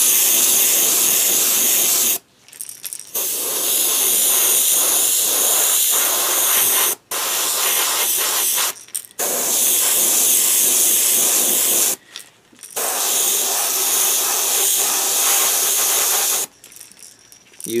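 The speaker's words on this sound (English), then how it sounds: "We're going to put a good base coat on him of white here." An Iwata airbrush sprays a white base coat onto a fishing lure, a loud steady hiss in four long bursts separated by short pauses, with no talking.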